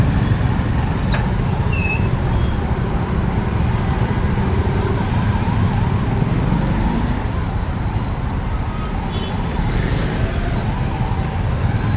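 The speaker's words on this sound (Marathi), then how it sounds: "मागे ॲम्ब्युलन्स आहे" An ambulance siren wails intermittently from somewhere back in a jammed road in Pune, faint beneath steady loud traffic rumble and engine noise.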